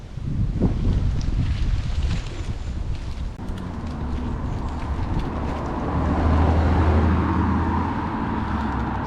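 Wind buffets the microphone in a constant low rumble outdoors on a street in Amersfoort, Netherlands, with faint passing traffic and footsteps underneath.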